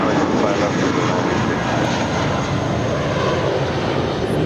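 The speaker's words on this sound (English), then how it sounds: "1463 off to San Jose del Cabo. 20-year-old A320." A 20-year-old JetBlue Airbus A320 takes off from Los Angeles International Airport, its jet engines producing a loud, steady roar that fills the whole stretch with no pause and no talking.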